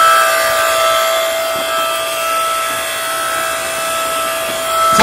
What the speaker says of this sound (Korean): 실제 장작을 쪼개는 모습을 보여드리겠습니다